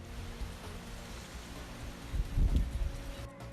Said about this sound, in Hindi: यूपी के कई इलाकों में बारिश और बाढ़ ने लोगों की मुश्किल बढ़ाने का काम किया है।